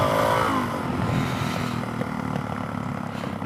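A Suzuki DRZ470 supermoto motorcycle engine drones close by and climbs in pitch as the rider revs it for a quick wheelie, with steady wind noise over the ride.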